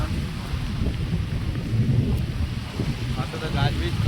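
Low thunder and steady rain from a heavy, unseasonal storm rumble continuously, loud and close, while someone talks over the downpour.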